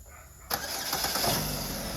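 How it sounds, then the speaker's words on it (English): A GM car's engine turns over on remote start, a sudden crank catching midway and settling into a steady, fairly close idle that carries on to the end, with no voices. "But yeah, remote start works perfect."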